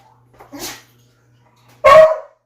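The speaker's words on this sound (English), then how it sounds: "if the dogs start barking, like I said, I will block out those barks" A dog gives a single loud, sharp bark close by, preceded by a softer yip or whine.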